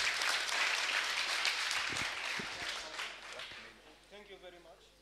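Audience applause at a Kibera community gathering on patriotism and national cohesion, a broad, steady wash of many hands that thins out toward the end as a voice begins speaking.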